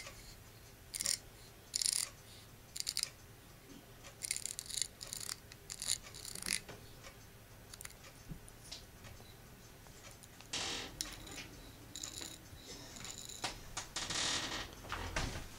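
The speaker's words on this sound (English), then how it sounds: "this motor scrubbing." Faint, intermittent mechanical scrubbing and rasping from a Wanhao i3 3D printer motor scrubbing the extruder plate, coming in uneven bursts with quiet gaps between.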